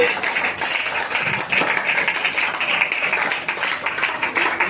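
Sustained clapping from a church congregation during a sermon, a thick continuous patter of many hands that swells slightly midway, with a voice faintly present underneath.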